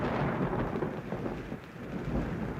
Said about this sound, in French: Toute la nuit, l'orage gronde.